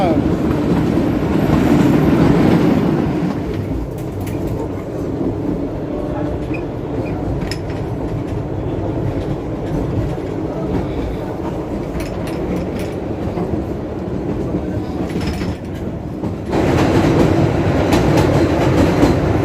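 The Kalka–Shimla toy train rolls along its narrow-gauge mountain line, a continuous rumble of wheels on rails with clickety-clack and occasional squeal, heard from aboard and loudest at the start and end.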